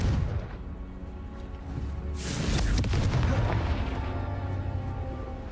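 Confringo blasting spell exploding in a video game, a single booming burst with a rumbling tail that rises midway and lingers against a dense background of game noise.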